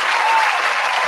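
Canned applause sound effect triggered from a button, a dense burst of crowd clapping and cheering that runs loud and steady through the whole short moment with no talk over it.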